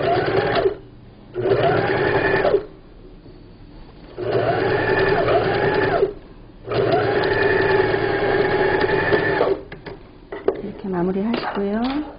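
A sewing machine stitches seams on a low dining-table cover in several bursts of steady whirring, each a second or two long, with quiet pauses between them and a final stretch that trails off into light handling noises.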